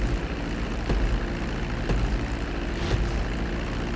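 Propeller airplane engine at GTA V flight school, a steady loud droning hum with a few faint rhythmic pulses, heard alone without talk.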